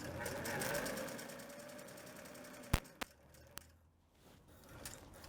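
Domestic sewing machine whirring steadily as it stitches fabric, a continuous mid-level motor hum for the first few seconds, followed by a few sharp clicks as the presser foot is handled and a quieter pause.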